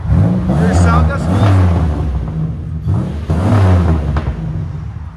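2004 Chevy Impala with a 3800 V6 and Netami resonator revving twice, each throttle blip rising into a raspy exhaust roar then falling back, loud and close.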